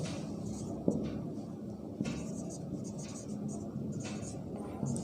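Chalk or marker writing on a board during a maths class, with soft scratchy strokes and a few taps as letters are formed, under a teacher's quiet speech.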